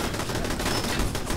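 Rapid video game gunfire, a dense continuous rattle of shots filling a brief burst with no voices over it.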